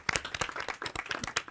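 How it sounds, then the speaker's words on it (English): Brisk applause from a small group, irregular hand claps overlapping rapidly and close by, with no talking. "give them a round of applause"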